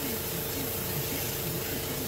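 An airbrush hisses in a steady, unbroken spray while applying paint to model rivets, close and even throughout with no pauses.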